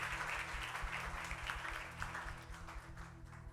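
A church congregation claps together during a Telugu communion service, a fairly soft, steady wash of hand claps lasting the whole stretch and fading slightly toward the end.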